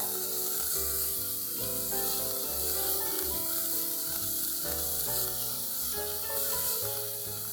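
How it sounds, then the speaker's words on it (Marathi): Finely chopped onion fries in a pan, giving a continuous close sizzle and hiss with occasional stirring sounds. "एक वाटी मी बारीक चिरलेला कांदा घेतलाय तो पण घालू आपण हा चांगला लाल होईपर्यंत फ्राय करून घ्यायचा आहे आपल्याला"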